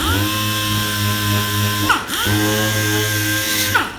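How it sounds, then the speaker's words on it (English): A high-pitched electric power tool, likely a sander, scuffing a shallow dent in car bodywork down to primer: a loud, steady whine close up that briefly spins down and back up twice, with no talk. "if it's that shallow, this is a very shallow dent. Okay, all we have to do is scuff it."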